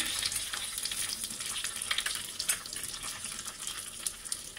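Cumin and mustard seeds fry in coconut oil for a Havyaka-style raw jackfruit polja, giving a steady close sizzle dotted with small sharp crackles and pops throughout, with no voices.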